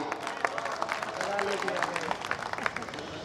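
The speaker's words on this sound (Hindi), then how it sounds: "बात आप तक पहुंच रही है तो तालियां बजा सकते हैं।" An audience at a Hindi poetry recital during a Navdurga festival claps in a scattered, moderate burst of applause, with some crowd murmur mixed in.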